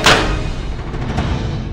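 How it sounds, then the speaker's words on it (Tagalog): A boga, an improvised cannon built from recycled materials, goes off in one loud, sharp blast at the start, followed by a rumbling, noisy tail that fades slowly. "At kapag ito'y sinindihan, ito'y sumasabog na parang kanyon."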